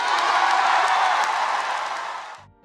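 A crowd applauds in an ovation, a dense, loud wash of clapping that holds steady and then cuts off sharply at the end.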